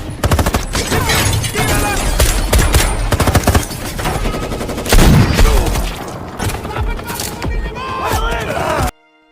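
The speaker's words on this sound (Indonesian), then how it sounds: "Dan aksi tembak-tembakan pun kembali terjadi." Rapid bursts of automatic gunfire and loud shots crackle continuously in a chaotic film shootout, with shouting voices mixed in.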